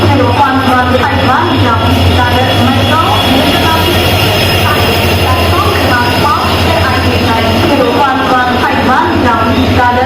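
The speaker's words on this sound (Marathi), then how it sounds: "प्लॅटफॉर्म क्रमांक 5 वर आलेली गाडी मडगाव जनशताब्दी एक्सप्रेस." The Madgaon Jan Shatabdi Express on the Konkan Railway pulls into platform 5 with a loud, steady rumble and a rhythmic clatter of wheels, while voices carry across the platform.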